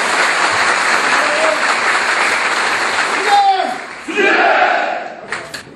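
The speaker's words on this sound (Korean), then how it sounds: "힘찬 박수 부탁드립니다." A crowd at a Seoul bus workers' union rally bursts into loud applause and shouting to welcome the union chairman, dipping briefly before surging again and then tapering off.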